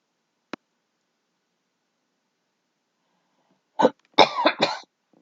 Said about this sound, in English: And when you hear me cough, it's still because of that darn pollen.